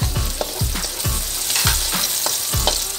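Onions sizzle and fry in a hot pan for beef salpicao, a steady close hiss broken by repeated scraping stirs roughly every half second.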